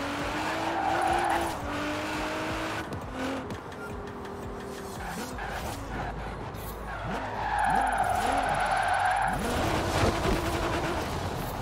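A car drifting in Forza Horizon 4 produces sustained tire squeal and skidding over a droning engine, the squeal rising and falling across the whole stretch with no pauses.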